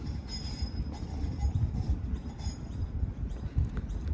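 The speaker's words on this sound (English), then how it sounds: "as the tram departs Tramway Avenue on its way to Parramatta" A battery-powered Parramatta Light Rail test tram pulls away from Tramway Avenue in Sydney with a steady low rumble and faint metallic squeals and clinks, heard from nearby.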